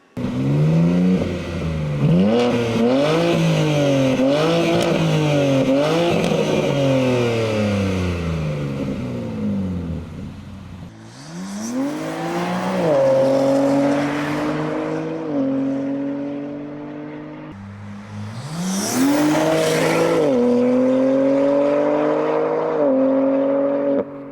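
A BMW G80 M3's turbocharged S58 inline-six exhaust, fitted with the stock muffler section, revs hard several times, pitch climbing and falling in loud, close, rasping sweeps with brief pauses between.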